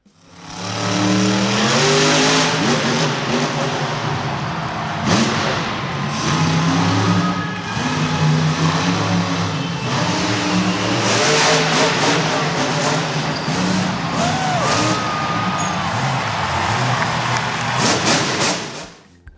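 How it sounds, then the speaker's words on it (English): Monster Jam monster truck engines rev hard, loud and continuous, surging and falling in waves for nearly twenty seconds, with bursts of harsher roar. "Monster trucks are such an amazing piece of machinery. The engines inside are so big and loud."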